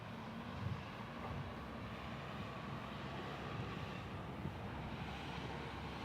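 A Boeing 737-800 airliner taxiing toward runway 27 at Kansas City International Airport: a faint, steady jet engine whine and broad rumble heard at a distance, with wind noise and no talking.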